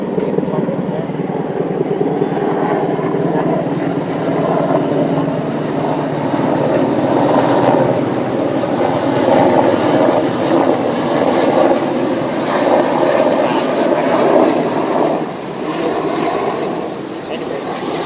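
Rotor and engine drone of a helicopter passes overhead, a steady broadband roar that rises and falls slightly, loud and continuous throughout.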